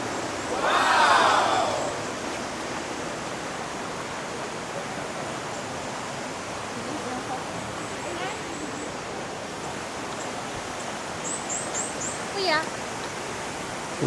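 Katibawasan Falls in Camiguin roars as a steady, broadband waterfall rush, with a brief louder burst near the start and a few faint chirps over the continuous wash.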